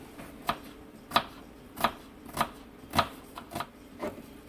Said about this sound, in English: got that chopped up